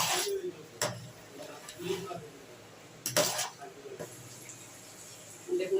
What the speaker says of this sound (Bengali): আমি এটাকে ভালো করে চিনি আর নুনটা এর সঙ্গে কিন্তু মিশিয়ে নিচ্ছি